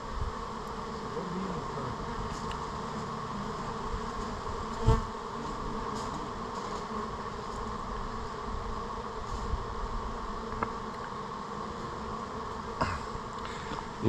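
Honey bees from a rescued swarm hum steadily at close range, a continuous buzzing drone with occasional louder passes and a few soft knocks.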